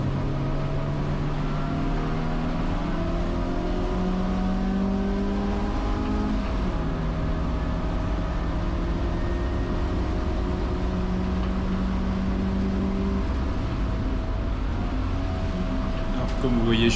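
BMW E30 race car lapping fast in a 24-hour endurance race, its engine droning steadily and continuously with pitch shifts through gear changes, heard close from onboard for the whole stretch.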